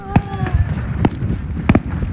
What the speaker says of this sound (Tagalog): Alam mo, paputok yun.